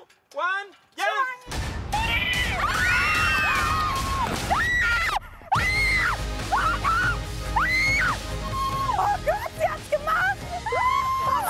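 People scream on an amusement ride: repeated loud shrieks and whoops ring out close by over the rumble of the ride, with excited shouting voices mixed in.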